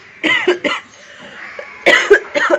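A person coughs in two clusters, first two sharp coughs close together, then after a pause another burst of two or three, loud and close.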